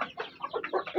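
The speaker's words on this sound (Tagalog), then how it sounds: "So may balak na talagang mangitlog ng pang-5 yung ating Shamo Jutako." A Shamo hen clucks in a short run of repeated, close calls, several soft bursts over about a second with no other sound around them.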